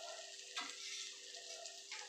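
Breadcrumb-coated potato and egg chop lowered into hot oil, giving a steady broadband sizzle with a brief louder crackle burst as it hits the oil.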